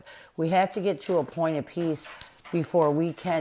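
A dog yips and barks in short bursts, close and fairly loud, while a person keeps talking over it.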